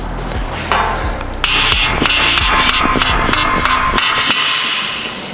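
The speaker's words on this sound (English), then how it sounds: "Sometimes you got to give them a little tap to break them loose." A hammer taps at a CV axle on a Nissan 370Z to break it loose. A quick run of sharp metallic knocks rings up close and loud, then fades out after a few seconds, with no voices.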